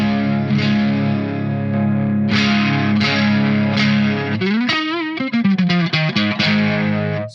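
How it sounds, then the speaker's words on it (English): An electric guitar plays through a tube amp with a BOSS GE-7 EQ pedal boosting mids and level, so the power tubes break up. Sustained, gritty chords ring out, then quick, choppy picked notes follow. "because there's a mid boost and a level boost, so the power tubes are distorting a bit"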